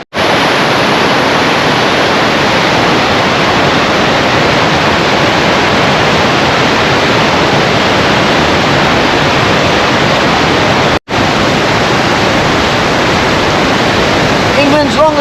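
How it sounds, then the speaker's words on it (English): Cauldron Snout, England's longest cascade, roars after heavy rain with a loud, unbroken wall of rushing white water, dense and constant throughout. "This is Cauldron Snout."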